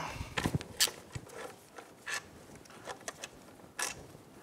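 Brake pads come out of a Kawasaki KLR 650 caliper with faint scattered metallic clicks, light scrapes and a few taps close by in quiet surroundings.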